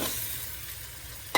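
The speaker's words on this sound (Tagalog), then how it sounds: "Haluin lang natin." Salmon sinigang being stirred in a cooking pot, with a steady close scraping and swishing for just over a second, ending in a single sharp knock.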